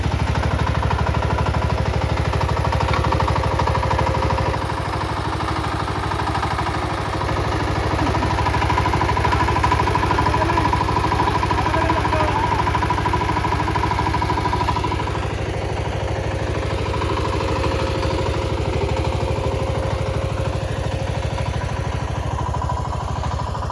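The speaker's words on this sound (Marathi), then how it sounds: "आता बघा कसा वरती येतो ट्रॅक्टर" A heavy tractor engine chugs loudly and steadily at low revs while pulling out of mud in a farm field, with clattering mechanical noise and a strained tone.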